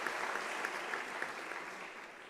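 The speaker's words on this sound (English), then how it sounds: "Can you also give the professional and administrative staff a round of applause?" An audience at a university's academic-year opening ceremony applauds the professional and administrative staff, a soft, distant, even spread of clapping with a few sharper claps standing out, fading slightly toward the end.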